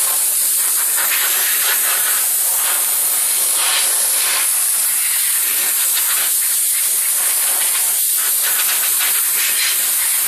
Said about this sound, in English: What I'm going to do is blow it off to get the water off so it doesn't instantly surface rust